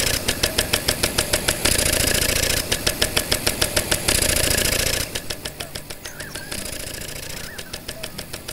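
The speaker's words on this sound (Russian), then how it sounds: "Ну, работает действительно как старый насос какой-то водяной, да?" An old water pump engine in the Farm Manager 2018 video game runs with a rhythmic, chugging, knocking pulse, loud and steady throughout with slight changes in tone.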